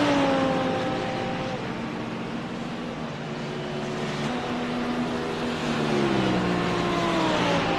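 GT3 race cars run on a circuit, their engines droning steadily and shifting pitch as they pass at a middle distance, with several overlapping engine tones and no talk.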